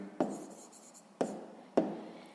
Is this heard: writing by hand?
yes